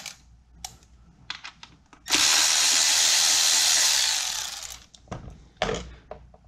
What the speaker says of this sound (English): using a 10mm socket, you're going to remove this 10mm bolt right here.